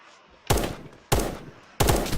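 Three loud revolver shots from a healing revolver in the video game Apocalypse Rising 2, evenly spaced about 0.65 seconds apart, each with a sharp crack and a short ringing tail, close and clear with no talking.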